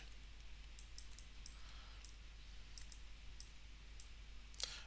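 Faint, quiet computer mouse clicks sound sporadically, about eight sharp ticks spread unevenly over a low hum of room noise.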